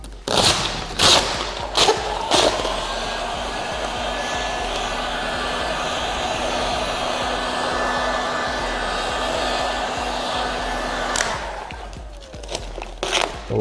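A heat gun blows a steady, loud stream of hot air onto stretched material for about ten seconds, with a few sharp crinkles and taps at the start and end.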